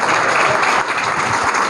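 Loud, dense applause from a crowd at a Shiv Sena political rally for Modi in Andheri, steady and continuous throughout with no break.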